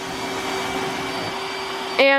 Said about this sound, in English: My only complaints I have with this vacuum so far is how loud the extractor bar is on hard floors.